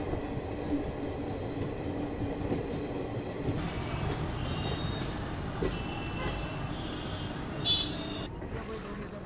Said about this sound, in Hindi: चलो फाइनली अराइवल हो चुका है नागपुर जंक्शन रेलवे स्टेशन में।